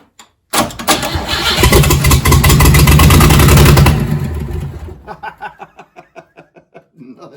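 A 1938 Pontiac engine cranks and catches loudly, running rough for about three seconds, then sputters down into a fading series of uneven pops and misfires as it dies.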